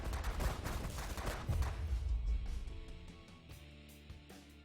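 Direct-fire weapons from a starship in The Last Federation rattle off in a dense, rapid volley that fades into quieter scattered shots over a low tonal hum, fairly faint overall.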